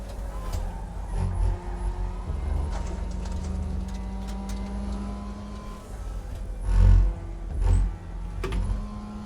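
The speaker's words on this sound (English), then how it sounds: "Tires are squealing." Car tires squealing in a sim racing game, with whining tonal squeals rising and falling over engine noise and a few heavier thumps along the way.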